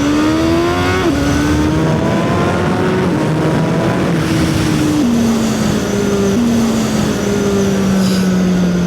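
A CFMOTO 750SR-S sport motorcycle accelerates hard through several quick-shifted upshifts, its loud engine tone climbing then dropping at each gear change, close and continuous with no talk.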